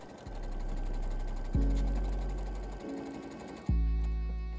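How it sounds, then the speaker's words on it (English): A sewing machine runs steadily with a low mechanical hum and rapid stitching rhythm, pausing and restarting a few times, close and fairly loud. "I just love watching my sewing machine sew by itself"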